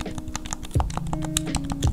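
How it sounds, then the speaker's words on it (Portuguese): PS5 DualSense controller buttons give quick, close clicks in an irregular series, with faint talking in the background. "É bem clique, tá dando pra ouvir, ó, ó o botão."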